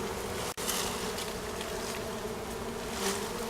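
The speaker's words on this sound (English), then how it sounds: "there are already bees coming in to the collection box" Honeybees buzz steadily and close as they fly into a 5-frame nuc collection box fitted with foundation frames during a tree trapout, a continuous insect hum with no voices.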